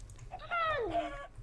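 A single drawn-out chicken squawk from the Minecraft Jurassic Dimension mod, pitched and sliding downward, moderately loud over a low background hum with faint keyboard tapping.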